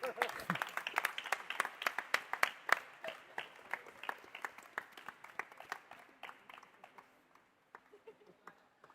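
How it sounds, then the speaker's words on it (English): An audience at a World Pizza Championship event in Bali applauds the winning team, a dense patter of many hands that is strongest at first and then gradually thins out, heard at moderate distance. "Let's have one more round of applause for Team West Asia."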